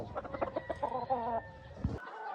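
A gamefarm rooster crows and clucks close by, a rapid run of harsh, stuttering calls ending in a short sharp squawk.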